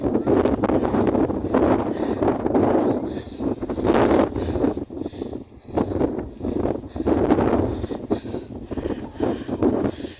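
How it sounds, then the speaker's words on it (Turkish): Strong wind blowing across a rocky hilltop, roaring and gusting in loud waves against the microphone for about ten seconds. "Ay nasıl esiyor."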